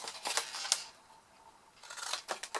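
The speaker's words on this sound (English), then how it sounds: "bottom right square, we're going to cut that away completely" Scissors snip away a square of paper while making a woven-threads gift bag, with two clusters of close, crisp cuts separated by a brief quiet pause.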